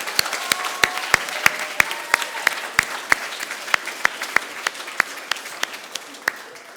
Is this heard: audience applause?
yes